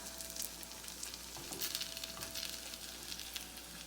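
A cheesy plant-based beefy patty fries in shallow oil, giving a soft continuous sizzle with gentle crackles and a few brief stirring or shifting sounds as it is turned and tilted, fairly quiet and without voices.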